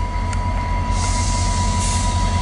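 VIA Rail train 88 pulls away on departure, a loud, continuous low rumble of the locomotive and rolling cars with a steady tonal whine and hiss, heard nearby without talk.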